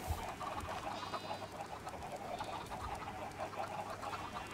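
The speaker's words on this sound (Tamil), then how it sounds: "கோழிச்சத்தம் தாங்க முடியலாண்டா" Chickens clucking in the video game Minecraft, several faint overlapping clucks and squawks scattered over a steady background hum.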